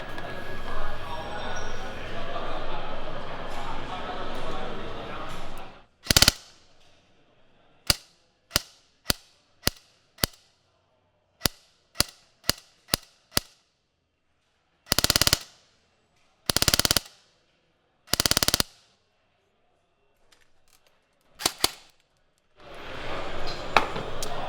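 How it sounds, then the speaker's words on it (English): A CYMA AR 47 QBS airsoft rifle firing, recorded at the muzzle: sharp single snapping shots and a few short bursts, loud and close with silent gaps between them, after talk at the start. "let's get our microphone right at the end so you can get what the muzzle report is"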